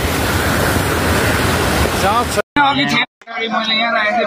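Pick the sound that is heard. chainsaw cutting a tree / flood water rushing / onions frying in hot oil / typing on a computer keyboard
flood water rushing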